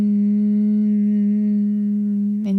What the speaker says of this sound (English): So the Bumblebee breath sounds like this.